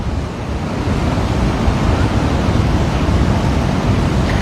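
Ocean waves break and wash ashore at Waikiki beach, a loud, continuous roar of surf up close with steady rushing wash and some wind buffeting the microphone, no voices.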